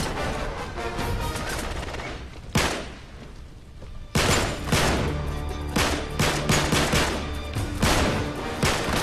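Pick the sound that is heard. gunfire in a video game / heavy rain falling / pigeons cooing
gunfire in a video game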